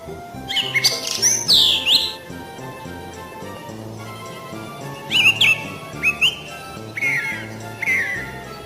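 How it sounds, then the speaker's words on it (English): Kiwi bird calls come as loud, shrill, rising squawks in several short bursts, with a steady low ambient hum and faint ticking beneath them. "Kiwi bird."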